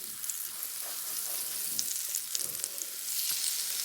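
Sweet potatoes frying in butter in a pan over medium heat, a steady close sizzle with a few soft pops, no talking.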